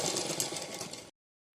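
A sewing machine runs a fast, steady burst while double stitching the front panel of a blouse, whirring close and even for about a second before cutting off abruptly into silence.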